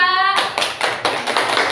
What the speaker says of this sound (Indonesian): Tepuk tangan untuk kelompok 2.